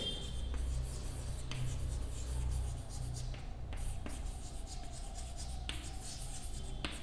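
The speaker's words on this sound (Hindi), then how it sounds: "अब मॉलिक्यूलर फार्मूला हम इस तरह लिखेंगे" Hand writing on a board or paper, a steady scratchy rub of strokes with brief pauses, faint and continuous under low room noise, as a molecular formula is written out.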